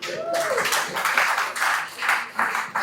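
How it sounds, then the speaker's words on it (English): Audience applause at a sensitization workshop on Nigeria's rebased GDP and CPI: a steady, dense patter of clapping in rolling bursts that fills the room for about three seconds. "Another round of applause for him"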